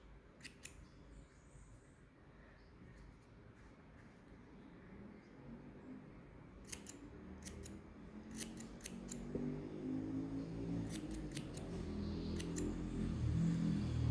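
Scissors snip material for an amigurumi Santa Claus in short, crisp, close cuts that cluster in quick bursts, while a low rumble rises steadily in the background.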